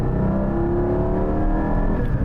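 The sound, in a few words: Porsche 718 GT4 naturally aspirated flat-six engine revving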